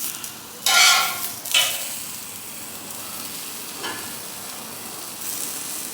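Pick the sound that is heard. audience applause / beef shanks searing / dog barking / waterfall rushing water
beef shanks searing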